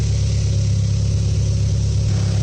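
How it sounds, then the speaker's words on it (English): Toyota GT86 engine running at a steady low speed with the car up on a lift and its wheels spinning freely, a close, constant, even hum and drone with no one talking. "just got the wheels free spinning just to heat up that gearbox oil and diff oil"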